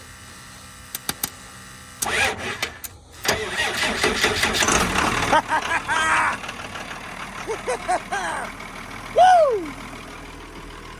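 Several short bursts of cranking from a Cummins diesel engine in a neglected auction service van, then it catches and settles into a rough, uneven idle with revs rising and falling, and a brief shout of excitement near the end.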